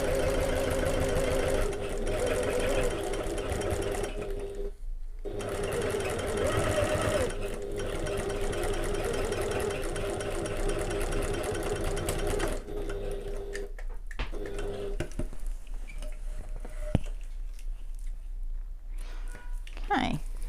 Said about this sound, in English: we're going to sew along this bottom edge, same as before